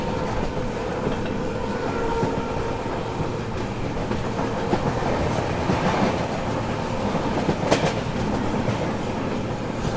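An Indian passenger express hauled by a WDP 4D diesel locomotive rolls along at speed, with loud steady rumble and rhythmic clickety-clack of wheels over rail joints, plus occasional metallic clanks, heard from on board.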